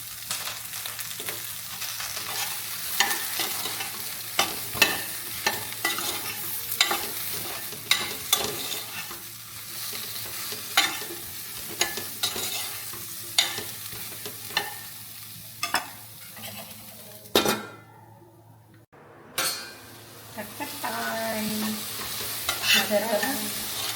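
Okra frying and being stirred in an Amway pan: a steady loud sizzle broken by repeated scraping stir strokes, with a brief near-silent pause before the frying resumes.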